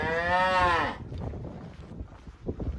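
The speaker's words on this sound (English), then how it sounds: "Look at these cows." A cow lets out one loud, close moo lasting about a second, followed by wind buffeting the microphone and faint outdoor rustle along a countryside walking trail.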